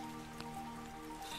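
Heavy rain falling outdoors, a soft steady patter with an occasional sharper drip, faint and continuous with no talking.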